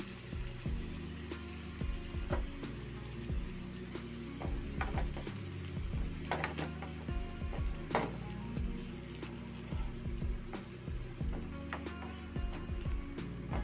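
Food fries in oil in a pan with a little chili powder added, a steady crackling sizzle close by, punctuated by stirring scrapes and clicks of a utensil.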